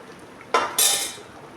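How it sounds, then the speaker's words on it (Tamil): Cooked toor dal being mashed in a pot gives two short, close scraping bursts a moment apart, then fades into quiet. "நம்ம இப்போ இந்த ஸ்டேஜில் நல்லா கடைஞ்சிக்கலாங்க."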